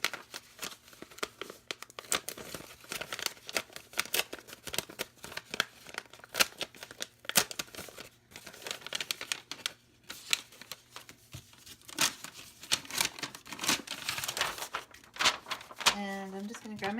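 An old tie-back paper envelope, dry and coming apart easily, is torn and crinkled open by hand in a quick series of close, scratchy rips and rustles, with brief pauses between them.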